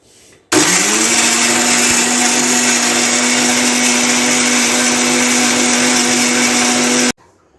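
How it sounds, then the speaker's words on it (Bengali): A kitchen blender whirs at a loud, steady pitch while blending starfruit with a little water for juice, starting abruptly and running evenly for about seven seconds before cutting off. "আগে এটা ব্লেন্ডার করে ছেঁকে নিই"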